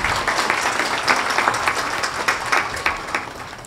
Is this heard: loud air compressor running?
no